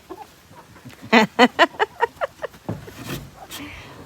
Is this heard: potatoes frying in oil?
no